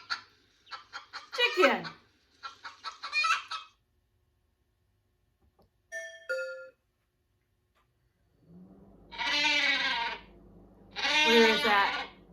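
Farm sheep bleating twice near the end, two long loud wavering bleats after a stretch of someone talking and a short chime.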